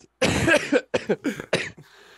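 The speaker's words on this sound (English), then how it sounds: "I burped and then I had the cough." A series of harsh, close coughs: one long rough burst followed by several shorter hacking coughs in quick succession.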